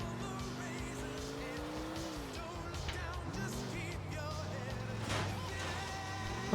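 A run-down car driven in Grand Theft Auto IV, its engine snarling and shifting pitch continuously while tires squeal through turns, loud and close throughout.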